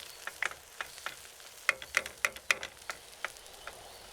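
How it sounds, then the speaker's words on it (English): Onions and fresh herbs frying gently in a pan, a soft quiet sizzle under a series of light, irregular scraping taps from stirring. "We fry the onions for a couple of minutes, then we add the fresh herbs and 2 pinches of salt"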